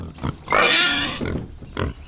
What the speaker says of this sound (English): Is that a pig under the table?